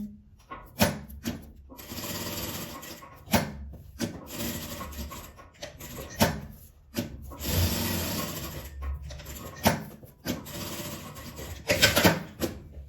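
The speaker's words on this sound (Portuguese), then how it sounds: "Vou costurar ele em volta." A sewing machine stitches around a fabric pad pouch in short, whirring runs, stopping and starting several times at close range.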